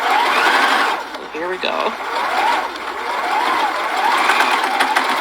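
A domestic sewing machine fitted with a rolled hem foot runs in steady bursts, whirring and clattering briefly as it stitches over a seam, while someone speaks over it.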